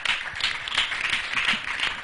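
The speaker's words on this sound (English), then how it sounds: "R is 3. Clap for him." A group of people in a quiz setting claps for a student, giving a short burst of steady, fairly close applause with no talking.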